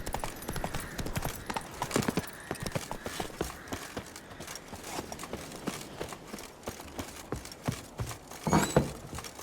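Hooves of the horse Roach pound rhythmically as it gallops in The Witcher 3, a fast, close clip-clop with a steady beat that grows a bit heavier toward the end.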